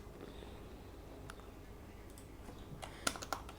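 Fingers tap a computer keyboard in soft, scattered keystrokes at low level, building to a few sharper clicks near the end.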